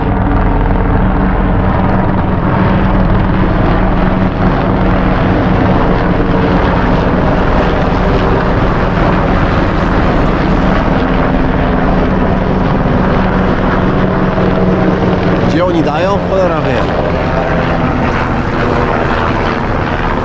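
A loud military propeller aircraft drones overhead throughout, a heavy continuous engine roar with a brief muttered exchange partway through.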